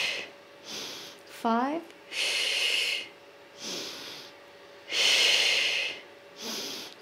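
Someone working out at home without equipment breathes in a steady rhythm of loud, airy exhales and inhales, close to the mic, while a voice counts between the breaths.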